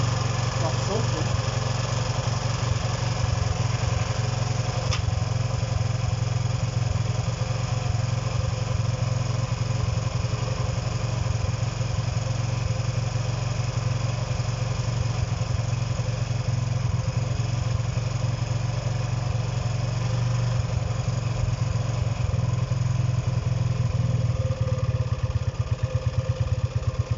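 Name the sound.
Honda CB125 motorcycle engine running with choke on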